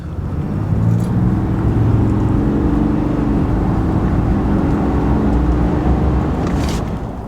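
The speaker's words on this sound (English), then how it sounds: "Here's a little bit of acceleration." A 2024 RAM 2500 Rebel heavy-duty pickup truck engine runs loud and steady, a low rumble building slightly as it accelerates, with no voices over it.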